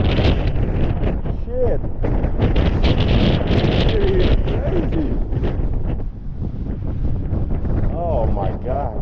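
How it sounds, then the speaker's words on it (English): Strong wind buffets the microphone nonstop outdoors in Las Vegas, a loud rumbling roar with gusts, while someone talks and exclaims over it. "Damn, it's windy over here. Super windy."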